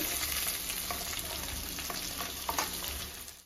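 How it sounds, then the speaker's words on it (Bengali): Boiled pieces of young jackfruit fry in a pan with a steady, soft crackling sizzle, close by and continuous with no voices. "হিঁচড়গুলো যে একটা সিটি মেরে সিদ্ধ করেছিলাম, এটা ভেজে নেব"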